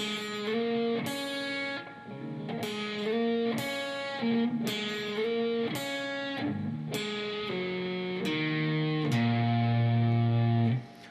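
Electric guitar plays the first part of a blues turnaround slowly, a descending run of clear single and double-stop notes with slight distortion, ringing out alone and ending on a sustained low chord.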